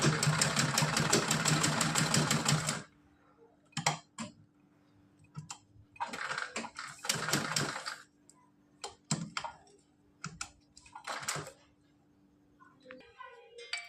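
A sewing machine stitches a small frock for a Kanha ji doll in bursts of rapid mechanical whirring, with a steady low motor hum between runs and soft clicks, close and fairly loud.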